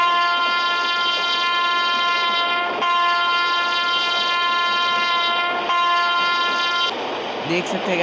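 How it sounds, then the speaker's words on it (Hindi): A WAP-7 electric locomotive sounds its horn as a long, steady multi-tone blast that holds for several seconds, loud and close, with rail rumble underneath and a brief break in the middle. "हमने अभी हॉर्निंग दी है"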